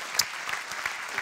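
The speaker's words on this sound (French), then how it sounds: "On les applaudit évidemment." Audience applause at a private hospital awards ceremony, a brief burst of steady clapping with a few sharper individual claps standing out.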